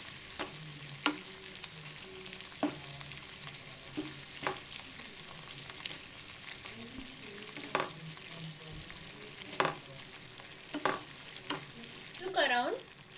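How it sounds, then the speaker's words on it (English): Mushrooms, capsicum and onions for kadhai mushroom frying in a pan, a continuous soft sizzle broken by repeated sharp scrapes and knocks of a spoon stirring, close up, with a faint clatter near the end. "Give it a mix."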